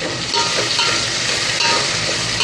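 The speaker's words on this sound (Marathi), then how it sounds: "गॅसवरच आता हे मोठ्या गॅसवरच आपल्याला हे परतून घ्यायचं आहे" Onion and tomato sautéing on a high flame for misal, a loud, continuous dense sizzle and hiss close up, with faint scraping as the pan contents are stirred.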